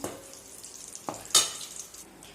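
Susiyam sweets fry in oil in a pan after being turned over, with a soft, steady sizzle broken by a few sharp clinks and scrapes of a utensil against the pan.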